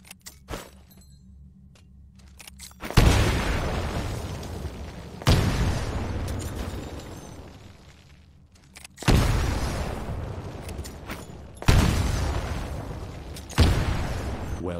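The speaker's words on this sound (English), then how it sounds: "Throw a grenade into each of the windows." Four grenade blasts from the Titanfall pilot training course, each a loud broadband boom with a long decaying rumble, spaced a few seconds apart after a quiet opening with faint background tones.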